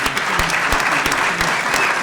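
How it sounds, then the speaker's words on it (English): A seated audience at a moot court competition gives steady, dense applause close by, with individual sharp claps standing out. "I think you both deserve a round of applause."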